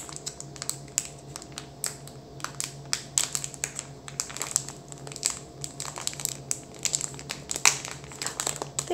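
Close crinkling and crackling of plastic packaging, with irregular sharp crunches and rips as a sealed wrapper is pulled and torn open.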